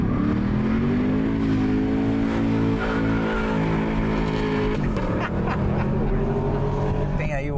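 A sports car on a race track revs hard, its engine note rising in pitch as it accelerates, then shifting and climbing again. The sound is loud and near, with no speech.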